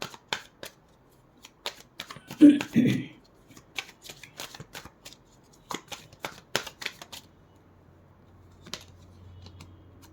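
Tarot cards are shuffled and drawn from the deck during a full moon reading: quick riffling and crisp flicking snaps in close, uneven bursts, with a brief spoken remark partway through and soft handling sounds toward the end.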